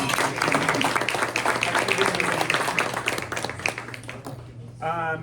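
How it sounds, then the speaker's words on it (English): A room of guests at a press luncheon claps in a round of applause that gradually thins and fades, and a voice begins speaking as it ends. "I just want to give Harry's a round of applause for hosting"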